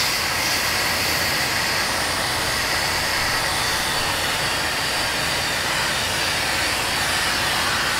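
A Numatic Henry HVR-160 compact canister vacuum cleaner runs with a steady, loud, broadband whooshing motor roar that holds unchanged for the whole stretch, with no one talking.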